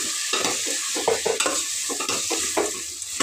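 A spoon scrapes and clinks steadily around a cooking pot as salt is mixed into sambar, with a low background sizzle and no talking.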